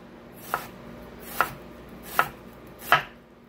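A knife slices an onion thinly on a cutting board with four crisp, evenly spaced chops, close and clear over a quiet background with no talking.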